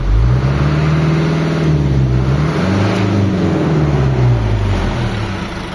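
Isuzu 4HL1 truck diesel engine running and revving, with a steady loud low drone whose pitch rises and falls in a couple of swells, close by with no talk.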